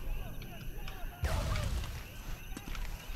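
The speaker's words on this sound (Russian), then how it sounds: "Там гранаты взрывают." A grenade going off in the Sniper Elite 3 game, one sudden distant blast that rumbles and fades, followed by a lighter thump, over low background ambience with faint voices.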